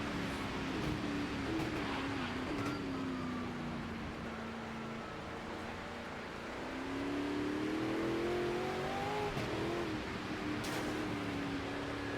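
Race car in a racing video game splashing through puddles after a hairpin, its engine droning and shifting pitch under a constant wash of road and water noise, steady and fairly loud throughout.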